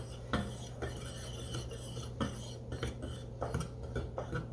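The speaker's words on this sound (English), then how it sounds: "So I'm going to just stir this up here like that." A spoon stirs nutmeg into a rhubarb-raspberry crisp mixture in a bowl, making soft repeated scrapes and light clinks against the dish at an uneven rhythm, close and fairly quiet.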